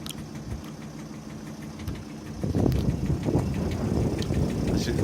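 Diesel boat engines rattle on a trip along the Orkney coastline, running rough on local fuel. A steady low throb grows louder and busier halfway through, with wind noise over it.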